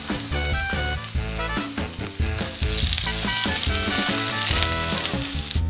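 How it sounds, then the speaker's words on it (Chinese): Ginger slices sizzle in hot oil in a wok over high heat, a constant hissing fry running beneath loud background music. "把油弄热后，我们就加入我们的姜片"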